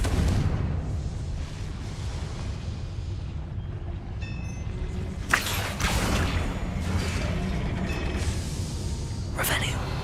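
A Confringo blasting spell in Hogwarts Legacy: loud booming bursts over a dense, constant rumble of game noise.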